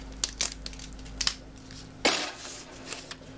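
Embossed paper being carefully peeled from an embossing folder after die-embossing in an Ezy Press, giving a few soft crinkling, crackling bursts with one louder peel near the middle, close and quiet.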